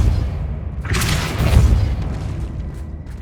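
A Depulso spell lands in Hogwarts Legacy as a single loud, deep boom with a broad burst that fades into a rumbling tail. No voices are heard.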